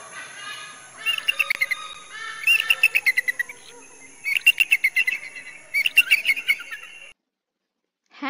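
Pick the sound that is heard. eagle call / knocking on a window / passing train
eagle call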